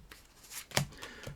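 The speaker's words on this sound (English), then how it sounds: "we can follow it up with the Klondike Shuffle" A Klondike shuffle of playing cards, a few quick papery riffles and snaps close by, with one sharper slap partway through.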